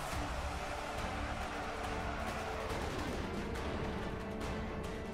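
Gunfire in the battle video game Ultimate Epic Battle Simulator, a huge German Wolfenstein mech army against a US army: dense, continuous volleys of shots and booms blend into a steady, faint roar of massed battle.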